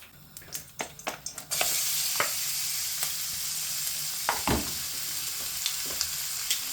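Chicken and vegetables for a stir fry hit hot oil and burst into a loud, steady sizzle, with a few sharp clicks and scrapes of stirring before and during the frying, no voices.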